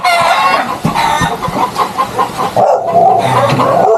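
Chickens cluck busily up close, a dense overlapping chorus of hens with occasional sharper squawks, loud and continuous.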